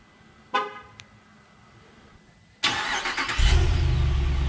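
A 2022 Ram 2500 pickup truck started by remote start, with two short horn chirps followed after a pause by the engine cranking and catching into a steady, rumbling idle.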